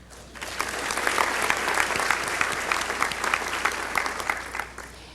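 Audience applause at a 2000 college graduation ceremony in a large hall, many hands clapping steadily, building up after a quiet start and holding at a moderate level until the end.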